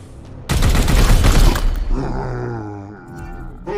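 Gunfire in Warhammer 40K: Chaos Gate - Daemonhunter: a loud, dense burst of rapid shots lasting about a second, then a rumbling roar that fades, with a faint voice near the end.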